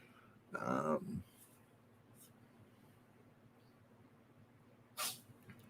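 A cat's small, sharp sneeze bursts out close by in a quiet room, followed later by a second brief, hissy sneeze.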